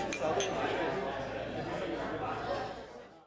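Beer glasses clink together in a toast at a brewery, a few bright clinks near the start over a steady bed of chatter from a small group.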